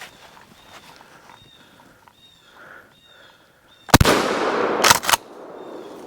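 A single loud 12 gauge shotgun blast rings out in the woods during a squirrel hunt, followed by a long rumbling echo, after faint birdsong and rustling, with a second sharp crack near the end.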